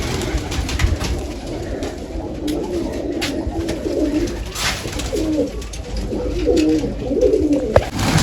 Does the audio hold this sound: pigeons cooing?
yes